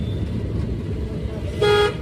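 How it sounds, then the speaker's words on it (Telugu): A car drives through heavy traffic in a town centre. A steady low engine and road rumble runs throughout, with a single short car-horn toot close by near the end. "centre full traffic"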